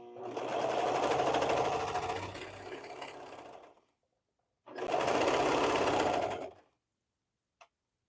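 A sewing machine stitching a flounce onto a Cascade Tee runs in two steady bursts, the first about four seconds and the second about two, with a close mechanical whir, a short pause between and a small click at the end.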